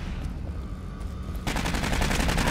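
Rapid automatic turret fire from Aliens: Colonial Marines, a dense broadband burst that erupts partway through and continues steadily, loud and close, over a softer background of game ambience.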